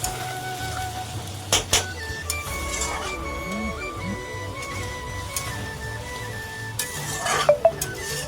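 A spoon stirs rohu fish curry with chopped tomato and coriander in a pan, giving a low simmering hiss with a few sharp clinks of metal on the pan. A voice talks over it at moderate level.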